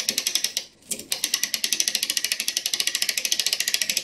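A clock mainspring is wound on a ratcheting spring winder, giving a close, crisp train of rapid ratchet clicks with a brief pause near the start, then steady clicking to the end.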